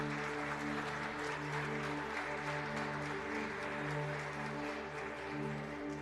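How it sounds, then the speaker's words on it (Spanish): Sustained applause from a church congregation during a sermon, a dense even patter of clapping that holds steady throughout with a low musical hum beneath. "Denle un fuerte aplauso al Señor."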